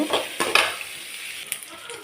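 Onions sizzling and crackling as they sauté in a hot pan, with a few scraping stirs of a utensil against the metal.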